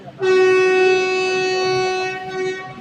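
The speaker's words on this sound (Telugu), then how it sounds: "మనోడు కూడా హారన్ అయితే వేసేసింది" The horn of the 17435 Kacheguda–Kurnool City Express blares at Jadcherla in one long, steady, loud blast, close by, holding its tone for over two seconds before cutting off.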